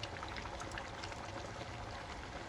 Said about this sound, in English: pour some vegetable stock